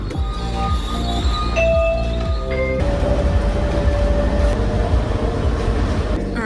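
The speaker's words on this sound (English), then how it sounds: "The train is arriving" Airport people-mover train pulling in: a loud rolling rumble with sliding pitched tones that settle as it slows, then a steady hum with faint clinks; no speech.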